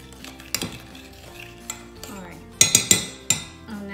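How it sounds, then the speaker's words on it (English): A utensil stirs colour block into melted soap base in a container, making gentle scraping with several sharp clinks against the sides, close and fairly quiet. "Now I'm just stirring in the color block."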